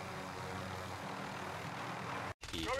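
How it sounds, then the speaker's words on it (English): Helicopter rotor and engine roar from a combat video game drone steadily and loud, broken by a brief cut near the end before the noise resumes. "Chopper got me again."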